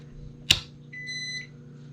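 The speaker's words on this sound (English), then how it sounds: "There's the beep of the microwave." A microwave oven in an RV powered through an inverter gives a short electronic beep, a clear steady tone lasting about half a second after a brief click, against a low electrical hum.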